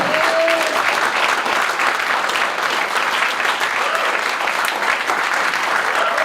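Sustained, dense applause fills a hall at an executive candidates Q&A session, steady and loud from start to finish with no voices breaking through.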